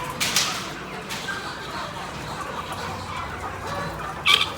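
Live chickens cluck in a crate at close range, soft irregular clucks over a busy background with one louder squawk near the end.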